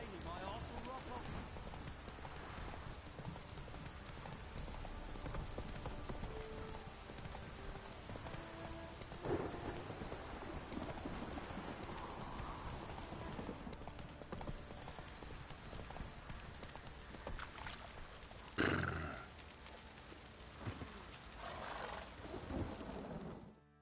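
Steady rain pours in a stormy scene from The Witcher 3, with a loud crack and rumble of thunder partway through, under hoofbeats and occasional spoken voices.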